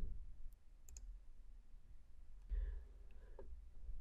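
A few faint, isolated clicks from a computer mouse sit over a low, quiet room hum, with sparse taps spaced apart.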